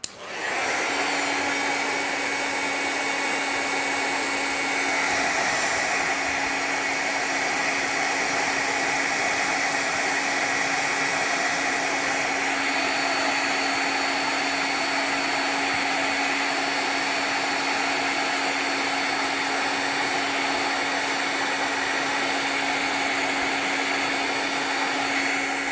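A heat embossing tool warms cardstock with a steady, loud blowing hum and a constant tonal whine that runs unbroken for the whole stretch, with no voices.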